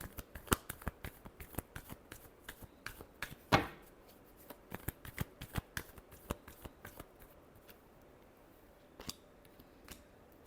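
Tarot cards are shuffled close by in quiet, rapid bursts of crisp riffling clicks, repeated in short irregular runs with a sharper snap partway through.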